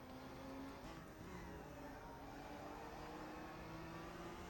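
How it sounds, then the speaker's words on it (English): A race car engine in a racing video game drones at high revs on the Bathurst circuit, a steady buzzing whine held throughout at fairly low volume. "Maintain those high revs"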